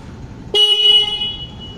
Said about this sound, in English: So yeah, that was the horn.